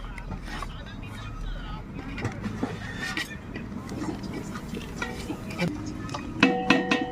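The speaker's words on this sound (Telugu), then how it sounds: "నెయ్యి మిక్స్ చేస్తున్నాం చూడండి" Ghee being stirred with chopped onions in a pan over an outdoor fire in the forest, scraping and clinking of a utensil against the pan in irregular strokes, with people talking over it.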